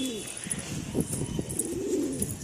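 Domestic pigeons kept for sale coo nearby in low, rolling, throaty calls, with a brief flutter of wings and faint chirps from other birds in the background.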